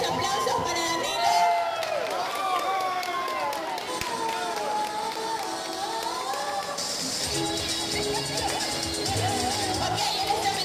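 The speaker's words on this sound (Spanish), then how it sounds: "los aplausos para Danilo" A live audience cheers, whoops and claps for performer Danilo Palomino at a stage show, a dense crowd roar with shouting voices that holds steady throughout.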